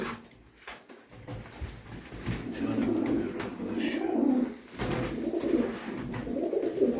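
Play pigeons coo near the listener, with soft, repeated, rolling calls running continuously through the clip over faint background noise.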